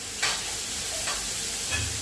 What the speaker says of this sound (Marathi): कांदा सोनेरी रंगावर छान तळायचा आहे.